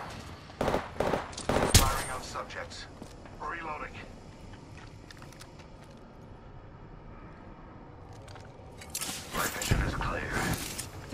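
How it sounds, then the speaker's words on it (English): Video game gunfire, fired at subjects during a tactical shooter fight: bursts of rapid shots at the start and again near the end, separated by a quieter stretch, with a voice talking over the action. "Firing on subjects."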